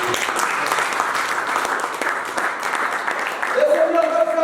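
A church congregation applauds in a sustained, dense wash of clapping. Voices and shouts rise over it, and a sung or called tone enters near the end.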